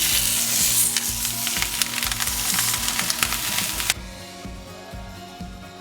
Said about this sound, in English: we're going to gently roll this into the pan, skin side down